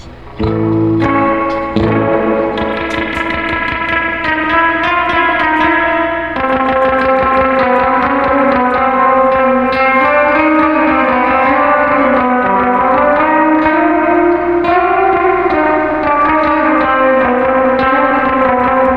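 Electric guitar, an 80s Gibson Les Paul converted into a Junior, played through a vintage 1966 Fender Twin Reverb amplifier with the reverb turned all the way up, loud sustained chords and notes washing into a long, wet tail.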